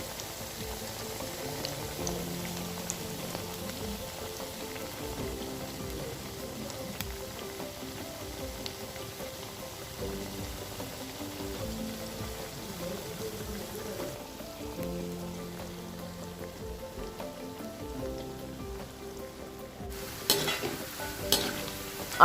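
Jackfruit pieces deep-frying in hot oil for spicy Chakka 65 make a steady, dense sizzle and bubbling that runs throughout, with occasional stirring clatter and a brief louder knock near the end.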